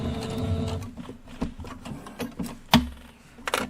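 A sewing machine runs a short back stitch, a quiet burst of rapid mechanical whirring and clattering needle strokes with small clicks, close by and alone.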